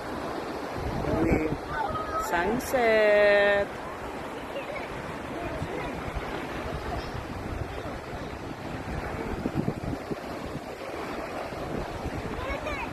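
Sea waves wash steadily onto a provincial beach in the Philippines, a continuous rushing surf mixed with wind buffeting the microphone, while a person speaks briefly near the start.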